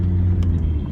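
A car with a faulty gearbox is driving on a country road. A low, heavy engine and road rumble fills one brief moment, close and loud, with no talk.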